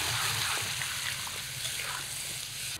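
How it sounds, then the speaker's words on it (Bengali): Water, swirled in the plate that held ground tomato, is poured into spiced masala frying in a pan for a boal fish curry with potatoes, giving a steady loud sizzle and splash that lasts throughout, close by. "টমেটো বাটার থালা ধুয়ে অল্প জল দেব।"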